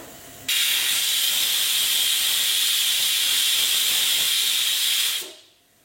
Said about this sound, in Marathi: फर्स्ट विसल येयली.